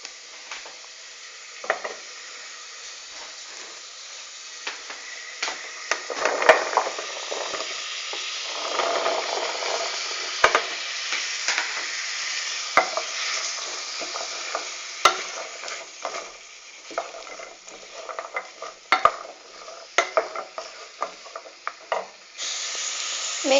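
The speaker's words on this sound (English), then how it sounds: "Now, you also have to saute your carrots." Carrots sautéing in butter in a pot for lentil soup, a steady close sizzle broken by scraping stirs and occasional sharp clicks of the spoon against the pot, with no talk.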